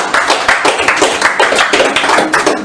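An audience claps steadily and fairly loudly, with dense, rhythmic hand claps celebrating a donation milestone at a live charity speedrun marathon event playing Super Metroid, close and continuous throughout.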